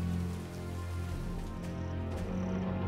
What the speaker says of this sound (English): They were slowed down by the rain.